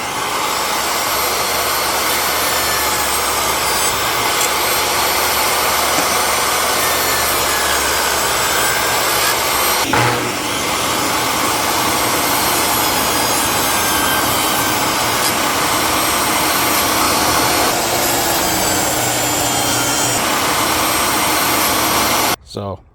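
A power saw cutting corner profiles from PVC decking fascia boards: a loud continuous roaring whine that runs almost the whole time, with a brief bump in the middle, then stops abruptly.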